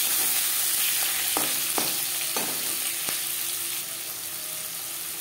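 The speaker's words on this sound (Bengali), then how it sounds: "শুকনো লঙ্কা ভেজে নেওয়ার পর দিয়ে দেবো পেঁয়াজ কুচি ও টমেটো" Chopped onion and a large tomato hit hot oil with fried dried red chillies in a pan, giving a steady bright sizzle, broken by a few sharp clanks of stirring in the first half.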